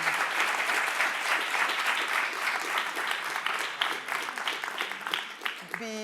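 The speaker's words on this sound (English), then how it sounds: "Please give a round of applause to our speakers." An audience at an academic panel forum applauds its speakers, a dense, sustained round of clapping that stays steady before tapering slightly near the end.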